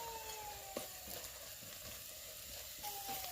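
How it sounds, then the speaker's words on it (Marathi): Spices sizzle in a pan with onion, garlic and cumin, a steady crackling fry with light stirring scrapes, close and continuous. "कांदा लसूण जिरा परतून घेतल्यानंतर आता आपल्याला मसाले टाकायचे आहेत असे सर्व मसाले एकत्रित आपण टाकलेले आहेत"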